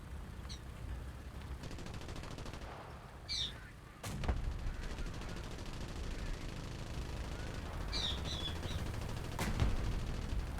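Gunfire in a video game wave battle: a few sharp shots ring out at scattered moments over a steady low rumble of battle noise, with no voices.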